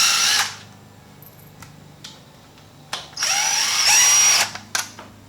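An electric power tool whirs in short bursts removing bolts from a Harley-Davidson Twin Cam Dyna cover, loud and close, with quiet pauses between each high whine and a longer burst near the end.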